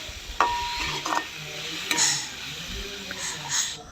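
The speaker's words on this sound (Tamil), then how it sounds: "கடலையும் சேர்த்து எல்லாத்தையும் நல்லபடியாக மிக்ஸ் பண்ணி விட்டுடலாம்." A spoon stirs boiled chickpeas through hot tempering in a pan for a chickpea curry, with scraping strokes over a soft sizzle and a few utensil knocks, close and moderately loud.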